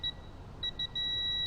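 A KINCROME K8035 digital torque adaptor beeps as it reaches its target torque of 40: a few short, clear electronic beeps, then one steady continuous tone, with no talking.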